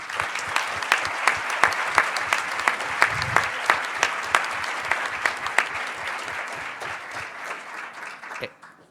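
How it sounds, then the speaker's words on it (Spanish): An audience at a book fair panel applauds to welcome Dr. Julio Frenk, with loud, sustained clapping that holds steady for several seconds before fading out at the end. "Un aplauso."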